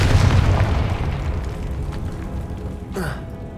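A Confringo blasting spell in Hogwarts Legacy: a heavy, booming explosion at the start that rolls off into a dull rumble, followed by a brief whooshing burst near the end.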